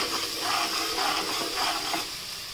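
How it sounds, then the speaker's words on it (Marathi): Crushed garlic frying in hot oil for a spicy Agri-Koli style crab curry, giving a steady, moderately close sizzle with soft stirring textures throughout, no talking. "तर आता आपण लसूण सुद्धा तेलामध्ये पूर्णपणे मिक्स करून घेऊयात"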